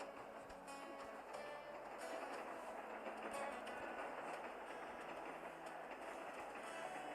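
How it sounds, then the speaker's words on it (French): A train rolls steadily on the rails with a continuous rumble and faint rhythmic clatter, moderately close, while voices murmur in the background. "Voilà, il est un train passager."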